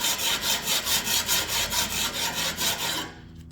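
A metal file scrapes back and forth across a lawnmower blade to knock off the burr, about a dozen steady rhythmic rasping strokes, close and clear, with no talking, before stopping abruptly.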